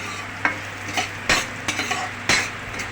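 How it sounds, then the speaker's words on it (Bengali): Ginger and whole spices frying in a pan for moong dal with bottle gourd, a continuous close sizzle broken by a few sharp scrapes and knocks of a stirring utensil, with no talking. "মশলা ফোড়ন দিলাম, আদাটা ভাজছি, আদাটাকে ভেজে নিলাম।"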